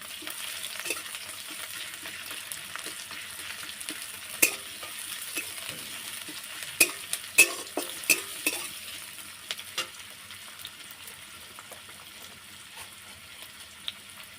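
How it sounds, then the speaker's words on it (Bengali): Garlic cloves stirred and fried in a pan, a faint continuous sizzle broken by a series of sharp metal spoon scrapes and clicks that cluster in the middle, with no speech. "রসুন আর দশটা নিয়েছি দিয়ে ভালো করে নাড়ি চাড়ি ভেজে নেবো"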